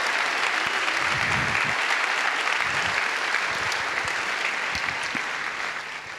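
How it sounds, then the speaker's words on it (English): An audience applauds steadily at a TEDxPerth 2013 open-mic event, a dense, sustained wash of clapping that holds for several seconds before thinning slightly at the end. "Can you please give another round of applause for these awesome people who came up and expressed their ideas?"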